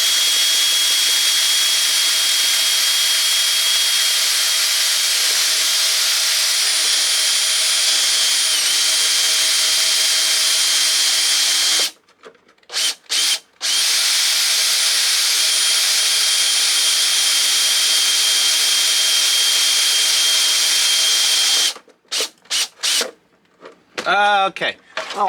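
Power drill boring through the plastic body of a 1/12-scale Tamiya M1025 HMMWV Hummer RC model, run at low speed; a steady whine holds for about twelve seconds, stops, then resumes for another stretch before cutting off near the end.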